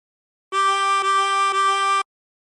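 Three blown notes on hole 9 of a 16-hole tremolo harmonica, sounded back to back as one sustained, reedy chord with slight breaks between them, clear and close with no talking.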